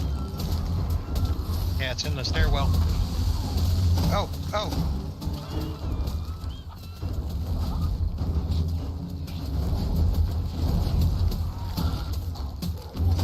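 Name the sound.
bird calling in a stairwell, from the video game 7 Days to Die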